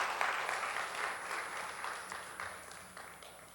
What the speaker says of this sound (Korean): 우리 격려하는 박수를 보내겠습니다